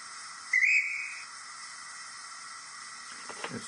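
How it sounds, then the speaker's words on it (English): A guard's whistle from a DCC sound-fitted Dapol Hawthorn Leslie model locomotive gives one short, shrill tone that fades over a steady hiss, followed by faint clicks. "F14 is the guard's whistle."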